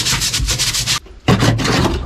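A brush scrubs loose debris off a surface during a long-overdue cleaning: quick rhythmic rasping strokes, close and loud, with a brief pause in the middle before another burst of scrubbing.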